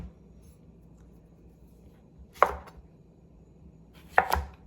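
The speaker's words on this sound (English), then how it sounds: "I gotta chop up my cucumber." Knife chops a cucumber on a cutting board for salsa, with two separate sharp chopping strikes a couple of seconds apart over a quiet, low room hum.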